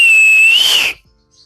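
A loud, piercing whistle made with the mouth alone, no fingers, holds one steady high pitch, bends slightly upward near the end, then cuts off abruptly into near silence.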